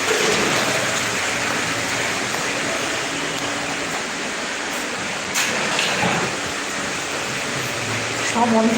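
Steady rain falling on a dark, stormy evening walk, a constant hiss filling the background at an even level, with a few brief louder bursts and a speaking voice in places.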